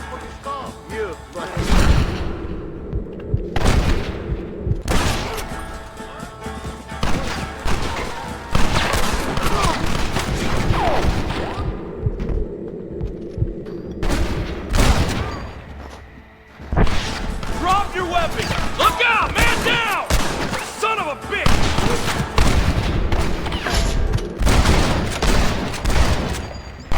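Gunfight at a gate in Red Dead Redemption, with bursts of rapid gunfire, sharp cracks and crashing impacts coming in loud clusters separated by brief lulls, with voices shouting over the battle at times.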